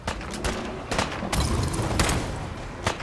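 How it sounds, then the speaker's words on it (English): Weapon fire in Fallout 4's Far Harbor: a dense, loud fusillade of booming shots with several sharp bursts over a rumbling, continuous battle din. "I'm just shooting it."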